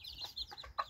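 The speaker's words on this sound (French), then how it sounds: "Rapide passage chez la poule et ses poussins." A hen with her chicks at a small August farmyard flock, giving a brief run of soft clucks and high chick peeps, close by and fairly quiet, with no talk.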